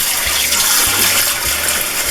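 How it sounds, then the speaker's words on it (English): Hot tap water gushes steadily into bread pans in a kitchen, a loud, continuous rushing fill with no voices over it. "so all I do is I just fill them up with hot water"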